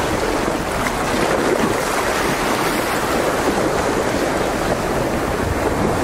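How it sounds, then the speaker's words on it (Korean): Small sea waves wash against the rocky shore of Ganjeolgot Cape in Ulsan with a continuous, loud, broadband rush and no pauses. No voices are heard. "지금은 파도만 조금씩 있고 바람은 거의 없고 파도만 조금씩 있습니다"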